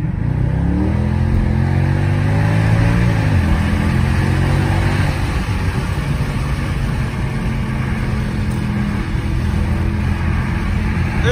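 A Mercedes C63 AMG with a 6.2L V8 accelerates onto a highway, its deep engine note climbing through rising gear pulls, then settling into a loud, steady cruising roar heard from inside the cabin.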